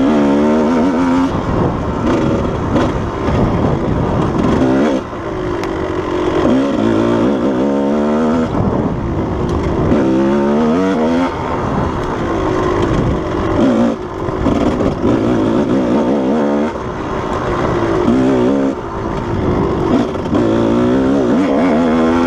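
A Kawasaki KDX220 two-stroke dirt bike rides desert trails around Tucson, its engine loud and close, revving up and down continuously with rising and falling pitch sweeps as the throttle works.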